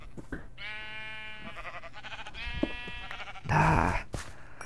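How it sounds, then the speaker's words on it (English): Several sheep bleats from Minecraft in a Feed The Beast modded server, drawn-out wavering calls repeated across the clip over faint background hum, with a louder burst of noise near the end. "Yep, I'm getting sheep."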